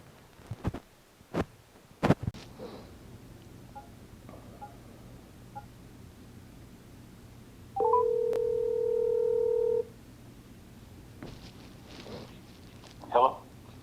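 Phone keypad tones dial a callback number: a quick run of beeps, then a steady two-tone sound lasting about two seconds, with scattered clicks and handling noise around it in a quiet room.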